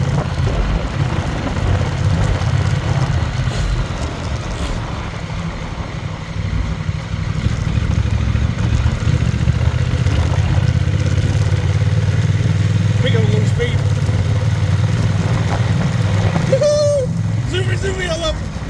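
A motorcycle rides on dirt roads, its engine a steady low drone that stays loud and close throughout, with wind and road clatter over it.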